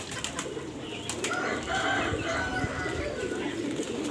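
A telampik pigeon coos at a pigeon kiosk in Ngadirejo market, Temanggung, with soft repeated coos over busy market background noise and scattered sharp clicks and knocks.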